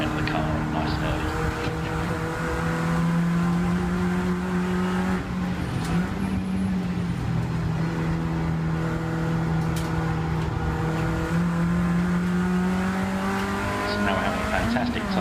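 A race car lapping Rockingham circuit in a trackday race, its engine droning loud and steady with rising and falling pitch as it accelerates and brakes through corners, heard close from inside the car throughout.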